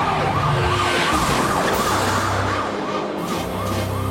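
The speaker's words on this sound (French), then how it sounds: "Tu crois pas qu'on aurait intérêt à arrêter l'ambulance avant?" An ambulance siren wails in an animated cartoon, loud and close with a continuous rising-and-falling tone over a vehicle's engine rumble.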